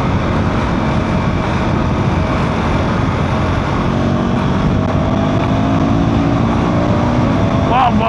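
A 2025 KTM Duke 390 motorcycle engine accelerating steadily at close range, a continuous buzzing drone with wind rush beneath a rider talking throughout.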